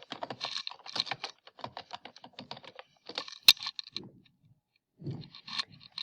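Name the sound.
typing email and password on a computer keyboard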